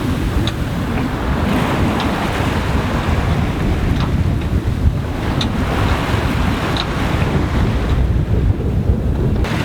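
Steady wind and ocean waves rush constantly around a sailboat crossing the Atlantic, with a loud, broadband roar and heavy wind buffeting on the microphone throughout, and no talking.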